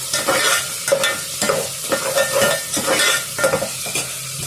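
Chicken pieces sizzle and fry in a curry pan while a utensil stirs them with repeated scraping strokes, a close, steady crackle with no voices.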